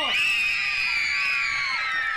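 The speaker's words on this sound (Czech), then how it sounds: "takže tleskáme, dupeme a pořádně ječíme jako maminka" Children scream loudly and continuously in a sustained high-pitched group shriek, close and dominant; clapping and stomping are not distinct.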